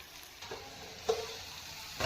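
Spiny gourd (kantola) frying in a pan with black masala, a faint, quiet sizzle with a few soft clinks of stirring, no talking.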